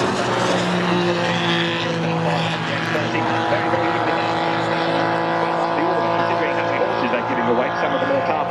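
Race cars lap the circuit in the Sopwith Cup race at Goodwood, their engines droning loud and continuous with shifting pitch, while a commentator talks over them throughout.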